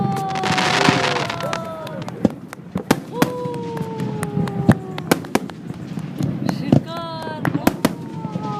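Festive fireworks burst over Astana on city day, sharp cracks and booms repeating through the sky with whistling rockets rising between them, while nearby voices talk over the display.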